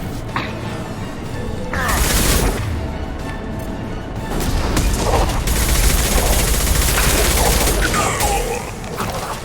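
Sustained heavy weapon fire from the video game Mass Effect 2 aboard the Collector vessel, loud dense bursts and crashing blasts swelling around two and six seconds, with faint game voices underneath.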